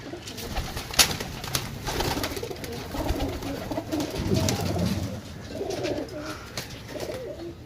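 Pigeons for sale cooing in low, rolling calls close by, with light rustling and clicks in the background and no talk.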